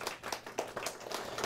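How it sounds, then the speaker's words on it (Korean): Short burst of crowd applause at a Korean career-coaching book forum talk, many hands clapping in dense, steady patter at moderate level, no voices over it. "박수 한번 주세요"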